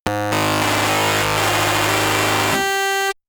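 A harsh, blaring synth tone run through the Spectrasonics Undercurrent distortion plugin with the EQ placed after the distortion, loud and chaotic, shifting into a thinner ringing tone before cutting off abruptly.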